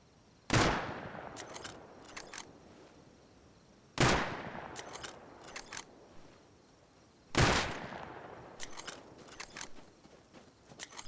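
Three sharp rifle shots ring out a few seconds apart in the video game Rust, each with a long fading echo followed by quick mechanical clicks of the action cycling.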